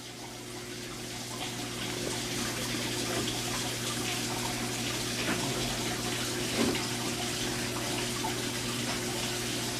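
Python tank cleaner siphoning water and gravel from under a fish tank's under-gravel filter, a steady rushing flow that swells after the first two seconds and continues alone without talk.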